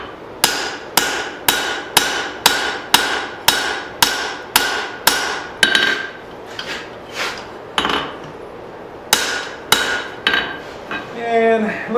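A hammer strikes hot steel on an anvil while forging a hatchet, a run of sharp ringing metallic blows in a steady rhythm, then sparser hits with pauses, close and loud.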